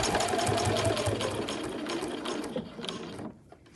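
A sewing machine runs in a steady, fast mechanical whir as it stitches binding onto a backpack, loud and close, then slows and stops near the end with no talking.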